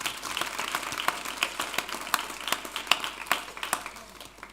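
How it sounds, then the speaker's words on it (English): A graduation ceremony audience applauds, the claps landing as sharp, fairly evenly spaced hits at a moderate level, sounding thin and sparse rather than a dense roar. "Please give her a round of applause."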